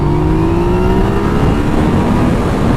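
A 2017 Yamaha MT-09 (FZ-09) motorcycle engine revving under throttle on a ride, a loud continuous drone with rising engine tones from close up, no talking.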